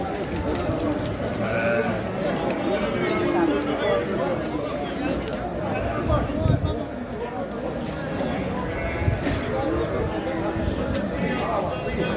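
Several goats bleat repeatedly amid loud, busy crowd chatter, with people talking over the animals throughout, at a livestock market in Şarkışla, Turkey.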